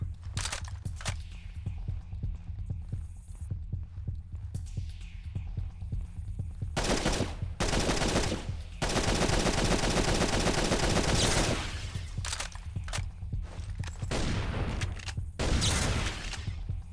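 Repeated shotgun blasts in the sci-fi shooter N.O.V.A. on PSP burst out in clusters, loud and close, separated by stretches of quieter game ambience and footsteps.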